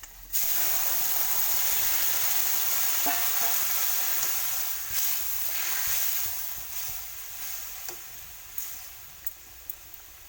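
Curry poured into onions frying in hot oil, producing a loud, steady hiss and sizzle that eases slightly while occasional utensil clicks sound over it.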